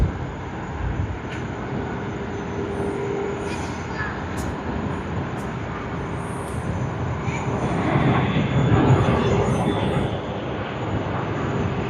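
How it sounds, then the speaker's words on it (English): A jet airliner takes off at Sydney Airport, a broad, steady roar in the distance that swells slightly toward the end, with no voices. "there's a takeoff in the background, lovely"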